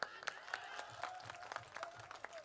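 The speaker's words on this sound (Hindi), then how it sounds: "मैं चाहता हूं एक बार और तालियां बजाएं।" Scattered claps come from an audience at a live comedy performance, sparse and faint, with individual hand claps standing out over a quiet background.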